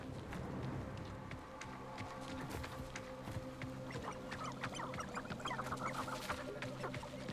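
Chickens cluck in short, scattered bursts over a low ambient game-world background in Hogwarts Legacy, the clucks close and moderately loud throughout.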